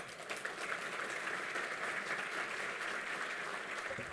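A conference audience at a telecom panel in Brazil applauds a speaker coming to the stage, steady continuous clapping from a crowd throughout.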